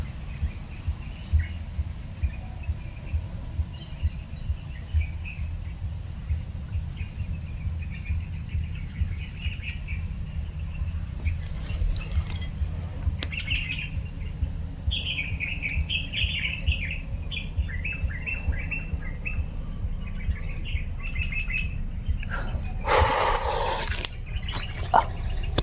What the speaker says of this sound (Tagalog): May ibon na tumutunog mga boss.